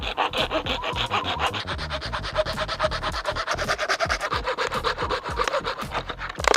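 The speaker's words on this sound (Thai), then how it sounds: "เราก็จะใช้เลื่อยนะคะ ตัดที่บริเวณนี้นะคะ" A hand saw rasps back and forth in quick, regular strokes, cutting through the thin plastic near the top of a plastic bottle close up, with no talking.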